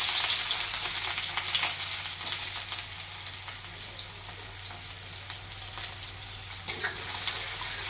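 Chopped onion sizzles steadily in hot oil in a home kitchen, a continuous bright hiss and crackle with a single louder clatter near the end and no talking.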